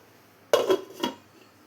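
A lid is set down on a cooking pot of drumstick curry. It gives a soft metallic clatter, two quick clinks close together, heard alone.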